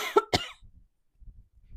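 Two sharp coughs in quick succession at close range, followed by faint low rustling and quiet background shuffling while someone works on a sparkly diamond art kit.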